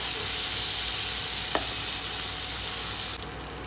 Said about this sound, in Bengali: আর দেখো পেঁয়াজটা কিন্তু হালকা হালকা ভাজা হয়েছে।